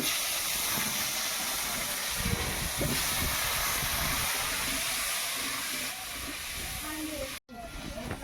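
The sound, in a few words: potatoes frying in hot oil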